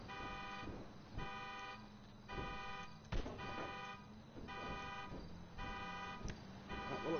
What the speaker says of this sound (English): Somebody's car alarm's going off and I didn't do it.